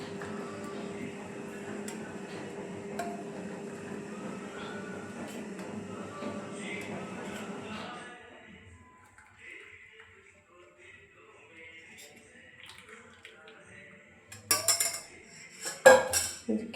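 Boiled flower lemon tea being strained, with kitchen clatter of a pot and utensils and steady pouring for several seconds, then a quieter stretch ending in a few sharp metallic clinks; a voice talks faintly underneath.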